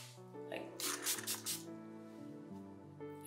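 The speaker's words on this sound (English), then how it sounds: "I love this spray." A facial moisturizing spray mists out in a few quick, soft hissing bursts over steady tonal background music.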